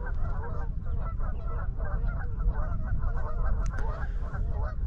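A flock of geese on the Tennessee River gives repeated overlapping honks at moderate distance, continuous over low wind rumble heard from a kayak.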